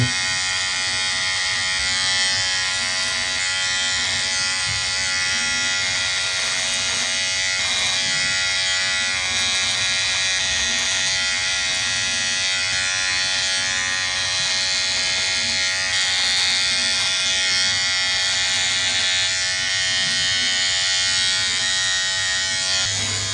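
A cheap Amazon electric trimmer runs steadily against a face, its bright, constant buzz holding near and loud throughout with small shifts in pitch as it moves over the skin.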